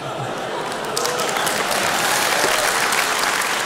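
Audience applause with some cheering at a German-language church talk, steady dense clapping that swells slightly after the first second and holds loud throughout.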